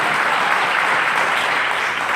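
Steady applause from a church audience fills the space, dense and even throughout with no break or speech on top.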